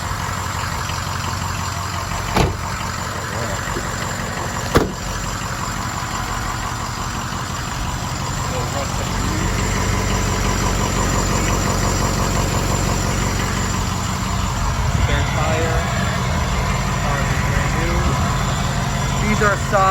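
A 2006 Ford F250 turbo diesel pickup idles close by with a steady, loud diesel rumble and a faint knocking clatter throughout, while a voice talks over it.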